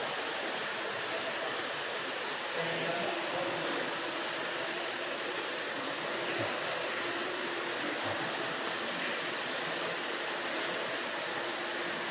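Rushing waterfall along the walk up to the Precious Moments Chapel, a broad, constant roar of falling water filling the scene at steady loudness, with no voices audible.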